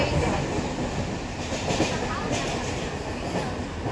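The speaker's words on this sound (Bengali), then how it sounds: "সব আমরা এখন ট্রেনে উঠে গেছি" Steady rumbling noise inside a moving train carriage, with continuous wheel and track roar and faint clatter filling the whole stretch at a close, even level.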